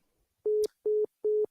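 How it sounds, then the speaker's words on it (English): A phone line gives three short, even electronic beeps after a caller hangs up, loud and clean with brief gaps, following near silence. "And Will just hung up."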